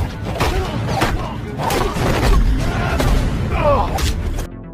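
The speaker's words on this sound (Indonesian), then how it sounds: "Sehingga aksi baku tembak tak terhindarkan lagi." A film gunfight plays out with booming shots, thuds and crashes in quick bursts, mixed with shouting voices and dramatic background sound throughout.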